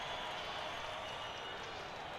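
In the NBA 2K23 basketball video game, a virtual arena crowd applauds with a steady, even wash of clapping and cheering that holds at a moderate level throughout.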